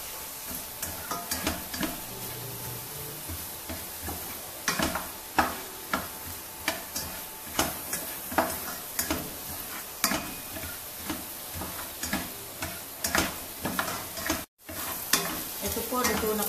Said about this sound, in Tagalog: Lagyan na po natin sibuyas. Hintayin po natin maluto. Maraming sibuyas po, mas masarap.